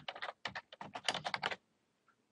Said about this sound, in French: en tapant sur le clavier numérique